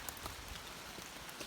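Steady rain patters on a surface along a mountain path, a soft continuous hiss with scattered drops, fairly quiet and without voices.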